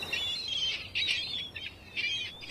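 A gull calls repeatedly in short squawking bursts, fairly close and clear, with brief pauses between calls and no voices present.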